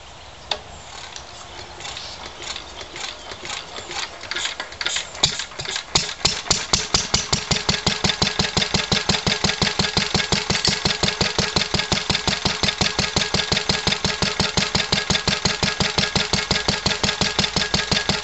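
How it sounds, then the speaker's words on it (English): A 1945 Lister D diesel engine cranks with uneven chuffs, then catches and settles into a steady, close, loud thumping beat that keeps running evenly. "But we'll try and get the Lister D going first,"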